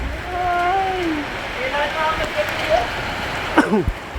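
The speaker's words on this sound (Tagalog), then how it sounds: "Lakas ng ulan." Steady heavy rain from a storm hisses across the scene in a dense, even wash while a few voices call out over it.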